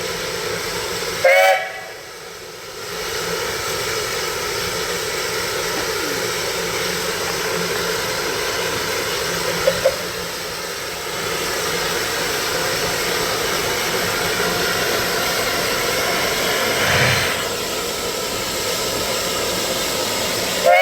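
A loud steam locomotive train rumbles steadily past for a long stretch, with clattering noise and a brief whistle-like burst near the end.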